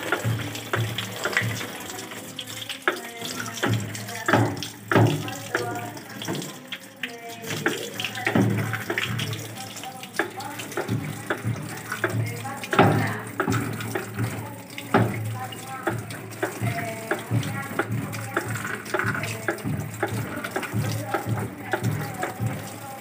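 Tap water runs and splashes while a washing machine filter is rinsed clean, an uneven spattering gush that swells and drops with handling, close by, with someone talking over parts of it.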